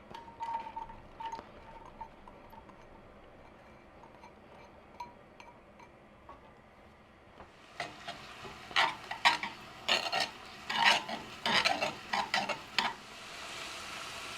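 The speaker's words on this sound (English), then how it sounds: "I just want the onions and the garlic to cook for a minute" Onions and garlic fry in olive oil in a pan over medium heat: a low steady sizzle, then a busier stretch of stirring with clinks and scrapes of a utensil against the pan, close and fairly quiet.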